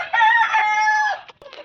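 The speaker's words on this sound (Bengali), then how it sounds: "আরও মুরগি আছে আমি দেখাচ্ছি চলো" A chicken lets out a loud, drawn-out call close by, followed by a couple of short clucks.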